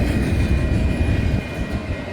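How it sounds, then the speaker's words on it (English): A freight train, with distributed power units, pulls out of a rail yard in Cheyenne, Wyoming: a loud, steady low rumble and rolling drone with a faint high whine, easing slightly near the end, and no talking. "all of a sudden the train took off"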